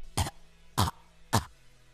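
A person with Covid coughs three times, evenly spaced, each cough short, harsh and close, with no talking between them.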